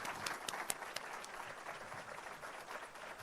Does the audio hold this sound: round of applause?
yes